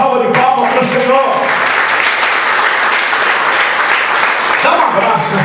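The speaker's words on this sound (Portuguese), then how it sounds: "Dê uma grande salva de palmas para o Senhor." Loud, full congregational applause fills a Sunday church service after a call to praise God, with a voice briefly audible at the start and the clapping holding steady throughout.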